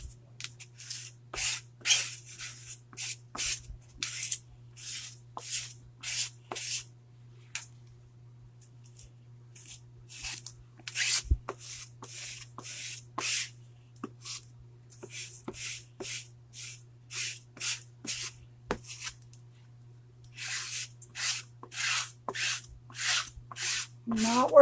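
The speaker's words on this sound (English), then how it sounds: "Needed to load that squeegee up a little better." A squeegee is dragged in short, repeated rasping strokes, pushing chalk paste through a transfer stencil. The scrapes come in quick bursts with pauses, close and fairly quiet over a low steady hum.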